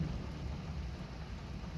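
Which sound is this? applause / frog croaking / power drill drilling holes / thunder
thunder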